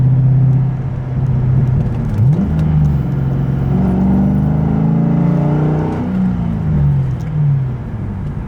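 A car engine drones steadily from inside the cabin while driving on new motor mounts, loud and continuous, its pitch rising and falling as the car accelerates and shifts.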